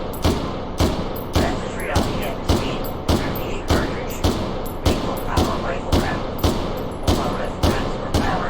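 Rapid repeated gunshots from an M14 clone rifle, about fifteen sharp, loud cracks in a steady rhythm roughly every half second.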